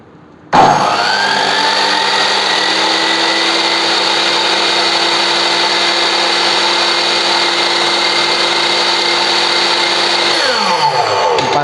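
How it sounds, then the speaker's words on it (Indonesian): A Stanley SM18 sliding miter saw blade spins up sharply and holds a loud, steady high-pitched whine. Then the motor cuts out and the blade winds down. "Kita akan ukur selanjutnya berapa sih RPM-nya untuk alat ini, rotasi per menit untuk blade-nya."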